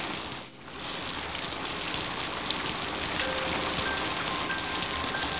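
Steady rain pouring down without a break, a dense, even hiss holding near and constant at one level, with no voices.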